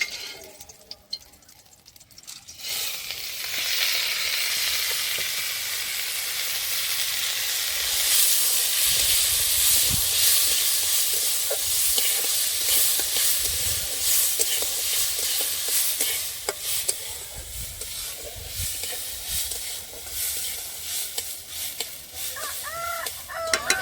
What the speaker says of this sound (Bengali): ডালটা কিন্তু ভাজা হয়ে এসছে, যেমন হালকা ভেজে নেবো বলেছিলাম, তো হালকা ভাজা হয়ে গেছে।